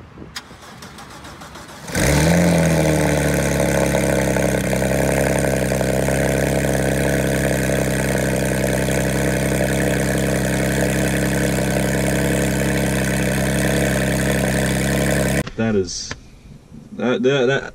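A straight-piped 2015 Porsche 911 GT3 fires up with a sudden loud bark, then settles into a steady, booming idle that fills the space for over ten seconds before cutting off, with voices afterward.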